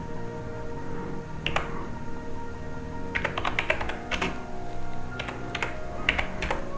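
Rapid bursts of typing on a computer keyboard while working in Photoshop: clustered key clicks come in uneven flurries over a steady background hum, close and moderately loud, with no talking.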